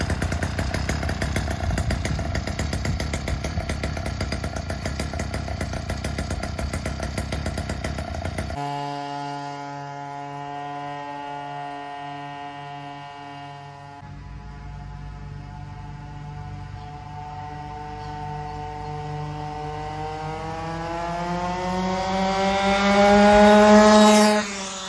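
Super GSR46R Goped scooter's small two-stroke engine on its first start-up, a dense buzzing drone that settles into a steady idle, then revs rising in pitch and loudness toward the end.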